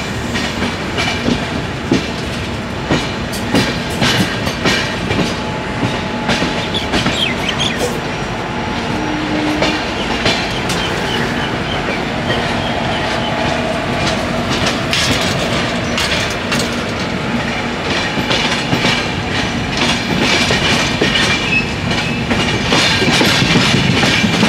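Trains and locomotives roll through a Chennai railway trip shed, a loud continuous rumble with rhythmic wheel clatter over rail joints and occasional metallic squeals, close and sustained throughout.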